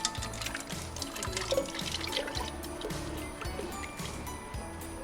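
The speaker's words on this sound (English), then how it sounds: "we add in our milk to the pot" Milk pours into a cooking pot for eggnog, making a continuous splashing, gurgling liquid flow at moderate volume with no speech.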